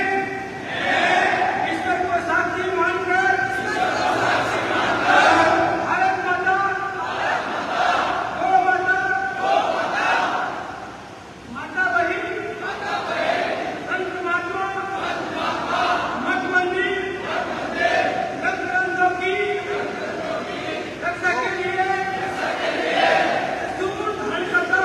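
A large crowd shouts in repeated rhythmic waves, voices swelling and falling together at a distance, with a narrator speaking over part of it.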